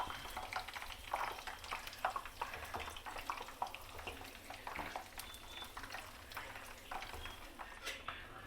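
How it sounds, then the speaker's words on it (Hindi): Puris deep-frying in hot oil, a soft continuous bubbling sizzle with occasional crackles and light clinks, fairly faint and steady throughout. "अब एक एक करके पूरी को डाल के फ्राई कर लेंगे।"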